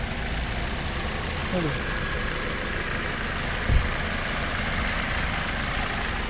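A 2020 or 2021 Toyota Corolla ZR idles while parked, giving a steady, faint low hum under a constant wash of noise, with one brief thump partway through.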